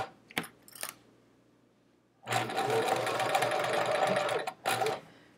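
Sewing machine stitching chevron quilt rows together without a walking foot: a couple of brief clicks, then a steady whirring run of about two seconds, a short pause and one more quick burst, close and moderately loud.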